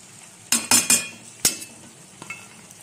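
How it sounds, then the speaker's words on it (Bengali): Eggplant fries in a pan while a utensil stirs and scrapes, giving a few sharp clinking strokes over a soft, steady sizzle, close up with no talking. "একটু বেগুনটা ভেজে নিচ্ছি"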